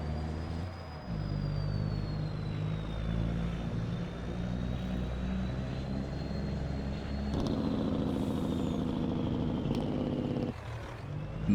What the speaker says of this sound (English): the Jake works really well. It's not obnoxiously loud, but loud enough to make it sound really good